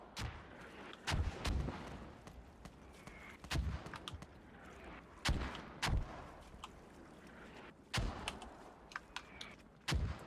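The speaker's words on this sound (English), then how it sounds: "They're doing pretty good with those mortars." Mortar fire and impacts in the Squad video game: a series of sharp, heavy booms arriving every second or two, some close and punchy, others more distant, over a low background rumble.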